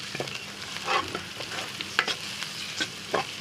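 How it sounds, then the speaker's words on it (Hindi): Garlic and ginger paste frying with softened onions in a pan for an aloo pakoriyan curry, a soft sizzle under light stirring and scraping clinks, fairly quiet and close. "अब इसके अंदर लहसुन अदरक डालेंगे 1 चम्मच के करीब। अब इसको भी इसके अंदर हल्का सा हम फ्राई करेंगे"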